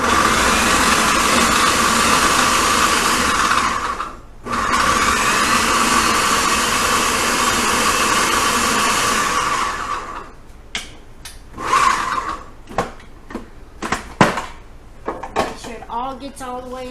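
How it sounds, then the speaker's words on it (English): Food processor chopping jalapeno peppers finely: a loud steady motor whine for about ten seconds with one brief pause, then stopping, followed by scattered clatters and bumps. "So I'm going to run it through my food processor. You have to chop it finely."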